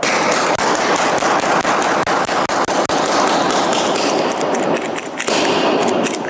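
A Byrna CO2-powered launcher fires a rapid, relentless string of loud sharp pops, shot after shot with almost no pause for several seconds, close and harsh.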